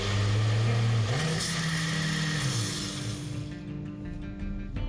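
A blender whirs loudly as it purees green chili hot sauce, its motor pitch shifting as the load changes before winding down to a quieter hum near the end.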